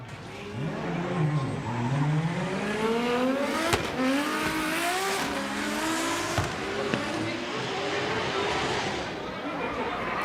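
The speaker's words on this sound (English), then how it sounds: "A lot of angle in the chase by Yamanaka." Drift cars, including a Toyota Supra, slide with squealing tires and revving engines at a Formula Drift Japan 2024 event, loud and continuous, with a commentator talking over the roar.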